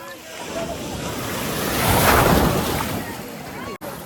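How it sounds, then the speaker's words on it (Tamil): Strong sea waves break on the shore at Dhanushkodi, a loud rushing surge that swells to a peak mid-clip and recedes, with wind buffeting the microphone throughout. "அலை வந்து எப்படி வருது பாருங்க, பயங்கரமா வருதுங்க."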